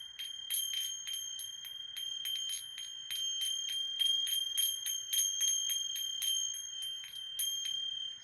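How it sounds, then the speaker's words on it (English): A rapid, repeated series of bright metallic chimes rings out, like small bells struck in quick succession, steady and fairly close for several seconds, on a chiming percussion instrument of the kind heard at gong baths. "I fell in love with this chiming sound"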